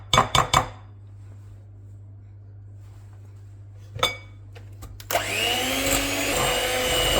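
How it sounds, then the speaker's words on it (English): An electric mixer creams butter for a vanilla cake batter, starting after a few clinks and knocks against the bowl and then running as a steady, fairly loud whir to the end. "scrape the sides in, and then continue creaming until it's light and fluffy."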